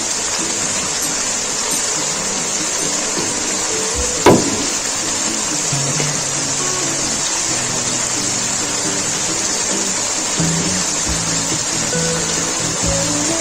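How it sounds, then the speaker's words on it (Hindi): Water from boiled chickpeas poured into a pot of Lahori cholay, a loud steady rushing pour close by that continues throughout, with one brief knock partway through. "मैंने इसमें वो चनों का जो पानी है जखनी वाला वो भी इसमें शामिल कर दूंगी"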